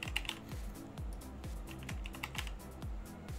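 Typing on a computer keyboard, a quick irregular run of close, faint clicking keystrokes with a steady soft rhythm and no talk.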